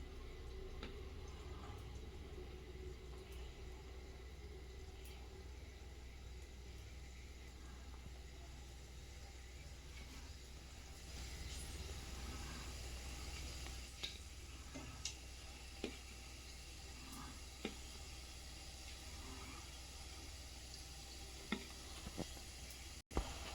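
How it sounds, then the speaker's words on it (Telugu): Gulab jamun deep frying in hot oil over a medium flame, a quiet steady sizzle with occasional small pops and ticks, close and faint, with no talking. "ఇవి గోల్డెన్ బ్రౌన్ కలర్లో వచ్చినంత వరకు మనం వేయించుకోవాలి, ఫ్రై చేయాలి, డీప్ ఫ్రై."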